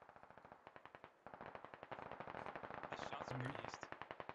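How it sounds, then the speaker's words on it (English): Rapid bursts of automatic gunfire from a military shooter game, Operation: Black Ice, crackle steadily throughout with a short pause near the start, sounding mid-distance and dense, with faint voice chatter mixed underneath. "Shots over east."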